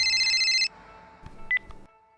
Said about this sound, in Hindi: मुनमुन फोन किया था, क्या बात है?